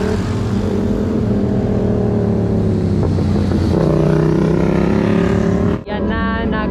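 A big motorcycle engine runs loud and steady with a rough, rattling drone that builds in the middle, then briefly cuts out near the end before resuming.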